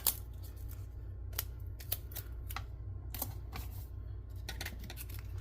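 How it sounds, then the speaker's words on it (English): Scissors snip through cardstock at a craft table, a few short crisp cuts spaced irregularly over a steady low background hum, close and fairly quiet. "I just cut some cardstock."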